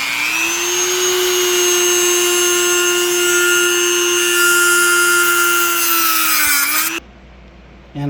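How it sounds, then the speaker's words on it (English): Dremel cutoff wheel slicing through bolts during a clutch replacement on a Triumph TR6: a loud, sustained high-pitched grinding whine lasting about seven seconds before cutting off abruptly. "so I'm going to take a Dremel cutoff wheel and"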